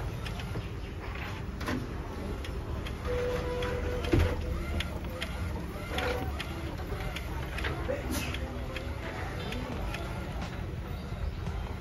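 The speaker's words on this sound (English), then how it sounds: "The printer has almost finished printing this job." An Epson L1800 DTF printer near the end of a print job hums and whirs steadily, its print head carriage shuttling back and forth with faint periodic clicks, continuous throughout.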